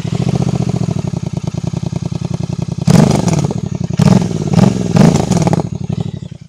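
A Royal Enfield GT 650 twin idles with a fast, even exhaust pulse, then is blipped sharply in three or four loud revs before settling, close to the microphone.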